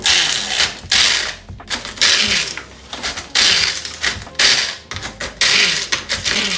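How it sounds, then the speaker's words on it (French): A blender grinds and crushes Doritos chips in loud, uneven bursts, rattling and clattering with brief pauses between pulses. "on va faire un petit peu de bruit parce qu'on va mixer les Doritos"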